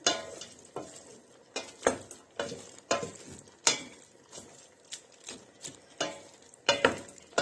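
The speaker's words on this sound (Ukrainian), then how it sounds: "Так, гарно перемішуємо." Goulash with meat, plenty of onion and one hot pepper being stirred in a pot, with repeated scraping and knocking strokes of a spoon against the pot and a soft sizzle beneath, close and fairly loud, no talking.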